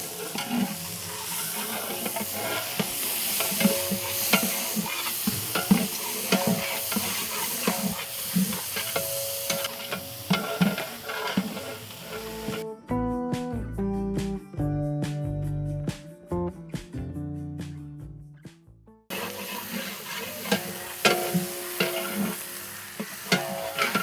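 Four kilos of onions fry and get stirred in refined oil for a mutton masala gravy, giving a loud, steady sizzle with scraping stirs. A stretch of music briefly takes over partway through before the frying returns.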